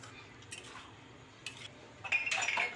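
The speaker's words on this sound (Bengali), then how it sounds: "এর ভিতরে এখন আমি সেদ্ধ করা ছোলার ডাল আর একটা বড় সাইজের আলু দিয়ে দিচ্ছি" Boiled chana dal and a large potato dropped into a cooking pan, giving a few faint clinks and scrapes of utensil against the pan, then a brighter clatter near the end.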